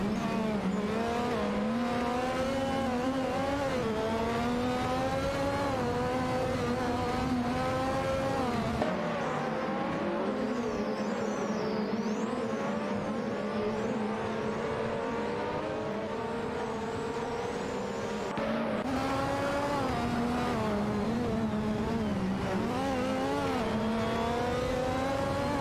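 AI-driven race cars in a racing video game, a continuous layered engine whine with cars rising and falling through gear changes, steady and moderately loud throughout.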